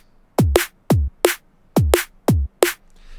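Six punchy synthesized drum and bass kick drums with deep pitch-dropping booms and bright clicky attacks, played in an uneven electronic pattern, loud and dry with nothing else.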